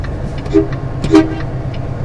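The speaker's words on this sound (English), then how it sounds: "Honk the horn." Two short vehicle horn toots, evenly spaced and fairly close, honked from a truck on a road trip while pulled up near a trailer, over a low engine rumble.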